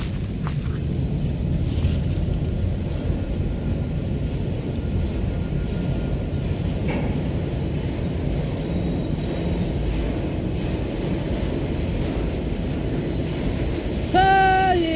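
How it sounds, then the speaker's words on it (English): A heavy freight train rumbles past on the rails, a loud continuous roar of wagons and wheels, with a brief high squeal of wheels near the end. "This train's heavy."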